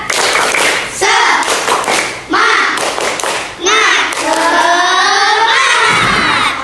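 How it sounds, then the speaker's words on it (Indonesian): Primary school children in a classroom burst into rhythmic clapping and shouting, loud and close, in several surges that give way to excited voices and cheers. "Beri tepuk tangan untuk kelompok 3"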